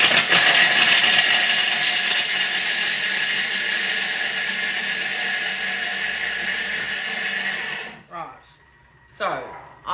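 Thermomix grinding Parmesan cheese in a loud, steady high-pitched whirr for about eight seconds, then stopping abruptly, with a couple of brief bursts after.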